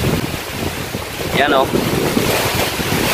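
Strong typhoon wind roars and buffets the microphone in Siargao, a loud continuous rush with gusts, while someone speaks briefly over it.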